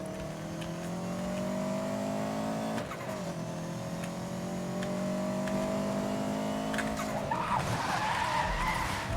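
In Need for Speed: Most Wanted (2012), a car brakes and skids hard, with loud tire squeal over a droning engine that drops in pitch, then a harsher scrub of rubber at the end.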